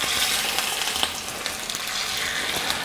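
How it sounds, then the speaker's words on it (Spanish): Potatoes fry in hot oil with a dense, constant sizzle and scattered crackling pops, loud and close, with no voices over it. "El aceite ya está listo, vamos a pasar a freír nuestras papas."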